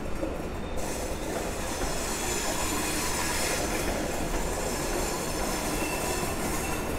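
A Polish EN57 electric multiple unit train rolls into Warszawa Zachodnia station with steady loud rumbling, rhythmic wheel clatter on the rails and a faint metallic squeal, with no voices.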